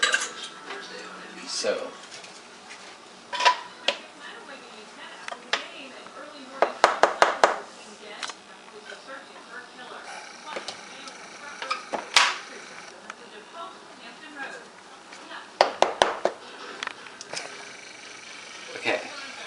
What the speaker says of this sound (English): our first step for actually baking the cookies is mixing the 2 1/4 cup of flour and the 1 teaspoon of salt and 1 teaspoon of baking soda